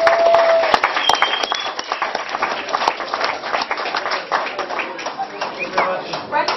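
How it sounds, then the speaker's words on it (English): Applause from an audience as a prize winner is called onto a stage, a dense sustained patter of clapping throughout with a voice speaking over it and a faint whistle near the start. "Big round of applause"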